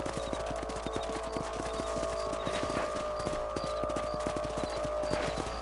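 Horses' hooves clip-clop in a steady, rapid rhythm as riders travel in Red Dead Redemption, the close hoofbeats running continuously under a wash of outdoor ambience.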